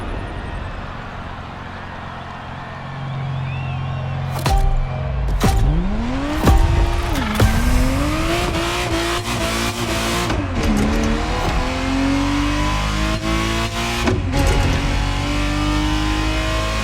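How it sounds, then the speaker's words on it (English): Ferrari Testarossa racing in the video game The Crew Motorfest, its engine revving up and down through gear changes with rising and falling pitch, loud and continuous with a sharp drop and recovery midway. "Ferrari Testarossa was quite the celebrity in her time."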